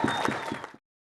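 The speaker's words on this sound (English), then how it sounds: "go ahead and clap now" A small audience claps briefly and unevenly for a few moments before the sound cuts off abruptly into silence.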